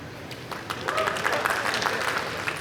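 A conference audience applauding at the end of a talk, a dense, moderate wash of clapping that holds steady for a couple of seconds.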